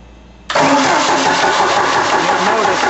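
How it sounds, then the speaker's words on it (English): A Mercruiser 3.0 boat engine, started by remote starter, suddenly cranks over, whirring loudly and steadily without starting, close by. "I'm just going to turn the engine over a little bit"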